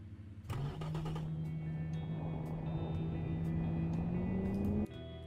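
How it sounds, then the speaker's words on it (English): A Firefly 2.8 premium sedan lapping the test track in the Automation car tycoon game, its engine droning steadily and rising slowly in pitch for several seconds before cutting off. "I want to see how fast this car gets around the test track"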